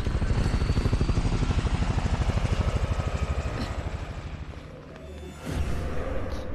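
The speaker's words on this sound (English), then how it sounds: "Okay, there's a chopper there." A helicopter in the video game Resident Evil 6, near an aircraft carrier: steady, loud rhythmic rotor chopping throughout, dipping briefly in the middle before swelling back with a surge of engine noise.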